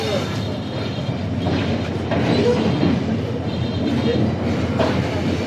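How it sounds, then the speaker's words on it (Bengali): A passenger train runs on the Khulna to Dhaka line after leaving Jessore station, heard from on board as a steady loud rumble with rhythmic wheel clatter and occasional squeal. "ট্রেনটা এখন রানিং হলো যশোর রেলওয়ে স্টেশন থেকে"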